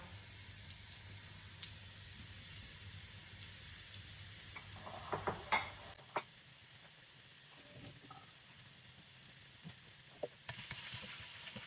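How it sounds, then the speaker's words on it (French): Squid strips frying in hot oil in a wok, a steady low crackling sizzle with a few sharper pops and clatters midway and the fry swelling louder toward the end, no one speaking. "Une fois que l'huile est bien chaude, je viens y ajouter mes calamars dans un premier temps"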